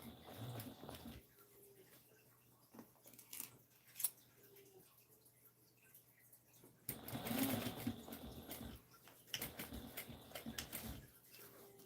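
A sewing machine stitching a seam on fabric sounds in quiet, intermittent bursts of whirring, with a longer louder run late on and a brief final stretch, separated by faint handling noises.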